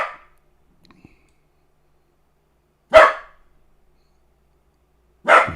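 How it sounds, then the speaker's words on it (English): A dog named Max barks three times, short sharp barks spaced apart by long silences, fairly close and clear with no talking. "Max is barking."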